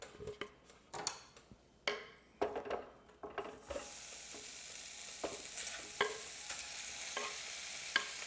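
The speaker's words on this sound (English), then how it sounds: "You'll probably hear a little sizzle." Sausage in a pan on almost high heat, first with clinks and scrapes of stirring, then a steady close sizzle of frying with occasional ticks of a utensil against the pan.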